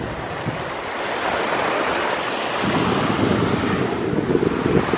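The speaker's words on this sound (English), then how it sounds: "we're at a beach and we're listening to the waves" Ocean waves wash continuously onto a hot beach, a broad steady roar of surf mixed with wind buffeting the microphone, swelling slightly louder in the second half.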